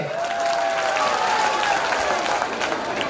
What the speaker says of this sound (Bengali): একটা হাততালি হবে